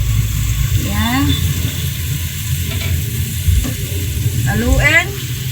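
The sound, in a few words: stirring pork in sauce sizzling in pan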